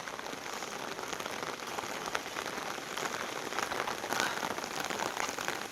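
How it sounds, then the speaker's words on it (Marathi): Dense, steady monsoon downpour pattering on surfaces and trees all around, loud and continuous with no voices. "पाठच पाऊस चालू झाला"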